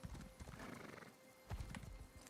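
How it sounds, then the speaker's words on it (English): A horse in the Elder Scrolls Online video game, with close hoofbeats and a clear neigh over faint ambient game sound. "I really like this horse."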